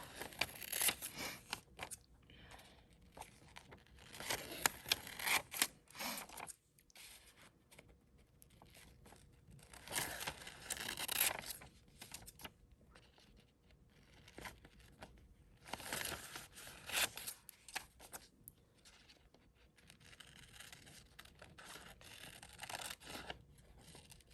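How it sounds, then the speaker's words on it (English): Scissors snip complicated shapes out of paper with a long run of close crisp cuts and rustles as the sheet is turned, coming in uneven bursts with short pauses between them. "So I can turn the paper easier than I can turn my scissors to cut that shape."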